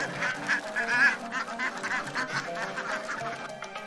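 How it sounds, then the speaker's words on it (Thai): Domestic ducks in a coop on a large duck farm keep up a dense, continuous chorus of honking quacks, fairly loud and close, with no talk over them. "เล้าเป็ดของเรา"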